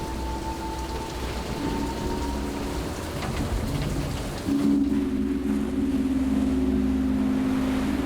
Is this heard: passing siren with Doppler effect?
no